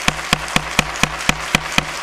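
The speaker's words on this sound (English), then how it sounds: "If you can refrain from clapping or booing" An audience in council chambers claps in a steady, evenly spaced rhythm, about eight loud, sharp claps close together in under two seconds.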